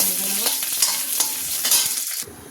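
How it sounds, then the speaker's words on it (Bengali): Garam masala, bay leaf and cashews frying in ghee in a kadai, a strong bright sizzle with repeated scraping stirs, close and loud, cutting off sharply near the end. "একসঙ্গে ভালো করে ভেজে নেব।"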